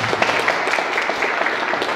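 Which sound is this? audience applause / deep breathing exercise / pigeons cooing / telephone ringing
audience applause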